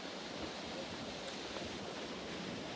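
Steady roaring rush of wind and rough sea surf on the coast at Teignmouth, a dense continuous wash of noise with no breaks.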